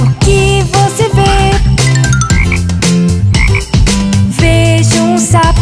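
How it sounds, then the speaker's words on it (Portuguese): Cartoon frog croaks ring out amid a bright, busy children's song, the music loud and continuous throughout with no talking. "Vejo um sapo, ribbit,"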